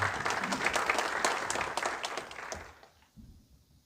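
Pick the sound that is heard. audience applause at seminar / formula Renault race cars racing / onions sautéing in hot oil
audience applause at seminar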